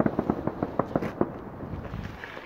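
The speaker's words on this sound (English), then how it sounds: "Fireworks, you know." Bonfire night fireworks burst in a quick run of about eight sharp, evenly spaced bangs at a moderate distance, then fade into a lingering crackle and rumble of smaller pops.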